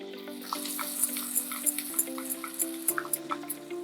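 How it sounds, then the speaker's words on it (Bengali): A ground spice mix hits hot ginger-garlic masala for aam chicken and sets off a lively frying sizzle, with a run of sharp crackles and spatters over a constant low hum, no voices. "এবারে আমি এখানে গুঁড়ো মশলার যে মিশ্রণটা তৈরি করে রেখেছি এই মিশ্রণটা আমি এখানে ঢেলে দেবো।"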